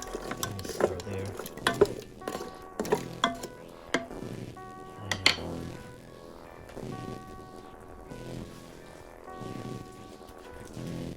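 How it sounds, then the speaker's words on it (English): Chicken and vegetables, including frozen broccoli, being stirred in an Instant Pot, with a utensil scraping and clinking against the metal insert in a series of uneven knocks over a low background hum. "Stir there."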